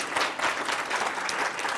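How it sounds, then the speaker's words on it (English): An audience at a genealogy day session applauds a presenter, a dense, steady wash of many hands clapping close by throughout, with no pauses. "So please give Kimberly a warm round of applause."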